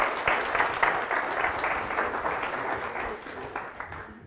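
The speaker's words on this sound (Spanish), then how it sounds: "por favor, denle un aplauso" Conference audience at a Codemotion Madrid tech talk applauding, a steady patter of many hands clapping throughout, moderately loud and thinning slightly toward the end.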